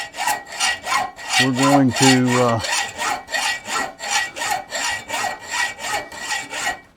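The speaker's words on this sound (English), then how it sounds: "let me see if I can find a hacksaw and we'll cut this off" Hand hacksaw cuts through metal stock on a homemade woodturning tool in steady, even back-and-forth strokes, close and fairly loud, with a short spoken phrase partway through.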